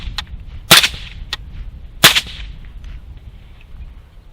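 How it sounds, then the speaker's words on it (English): Two sharp, cracking shots from a full-auto-rated AR15 upper fitted with a Gemtech Integra suppressor and firing 150 grain supersonic ammo, spaced about a second apart, with fainter clicks between them and a short fading tail outdoors. "So first we're going to start off with some 150 grain supersonic ammo."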